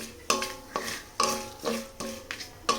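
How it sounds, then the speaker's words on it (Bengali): Cinnamon and bay leaf fry in ghee in a pan while a spoon stirs them, giving sharp scraping strokes about every half second over a soft, continuous sizzle, with no voices. "দারচিনি আর তেজপাতাটা একটু ঘিয়ের ভিতর ভেজে নেব"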